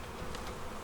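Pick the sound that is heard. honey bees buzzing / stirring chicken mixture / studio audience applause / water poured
honey bees buzzing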